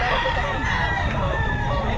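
A rooster crows amid clucking fowl at a crowded pet market, the calls fairly loud and close over a dense, steady background of crowd noise and murmured voices.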